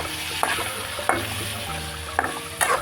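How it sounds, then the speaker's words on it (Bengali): Macaroni frying with turmeric in a pan, a steady sizzle throughout with a few sharp scrapes and clinks of a spoon stirring, close and clear with no talking. "ওয়াও, এগুলো কিন্তু ভাজা হচ্ছে।"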